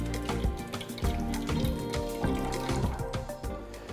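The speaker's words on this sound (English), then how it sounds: "I'm just going to pour this into my water tank" Descaling solution pours from a 100 ml container into the water tank of a Magnifica S Smart coffee machine, a close, quiet splashing and trickling stream with small drips, alone for a few seconds.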